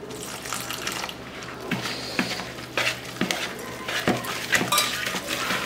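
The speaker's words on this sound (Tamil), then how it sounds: "இப்போ இதில் கொஞ்சம் கொஞ்சமாக தண்ணி ஊற்றி மிக்ஸ் பண்ணிக்கலாம்." Water poured little by little into flour batter while it is stirred, giving wet sloshing and scraping with scattered clinks of a utensil against the bowl, fairly close and steady throughout.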